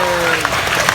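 A crowd gives a big round of applause for the performers after a ride, with dense, steady clapping throughout and a voice speaking over it.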